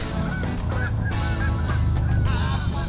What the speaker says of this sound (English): The geese, they're back.